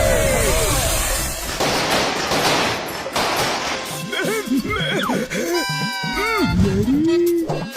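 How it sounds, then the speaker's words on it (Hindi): Fireworks and firecrackers burst in a cartoon comedy scene, a dense crackling barrage at first, then scattered pops mixed with whistling, sweeping tones from rising and falling rockets, loud throughout. "यहाँ सामने आतिशबाजी हो रही है।"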